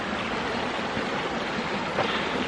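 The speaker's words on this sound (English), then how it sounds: "The fact that this creek has still got running water" Running water flowing down Lesmurdie Brook creek, a steady broadband rushing wash that stays close and constant throughout the short stretch with no voices.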